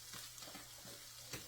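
Steak dusted with Montreal steak seasoning sizzles faintly in a pan, giving a soft, low hiss that ends in a brief louder burst.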